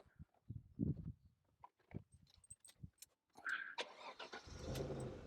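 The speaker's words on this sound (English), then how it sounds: "just start the engine and see how it sounds." A few clicks and taps, then an Alfa Romeo 916 Spider engine cranks and catches, settling into a low running rumble.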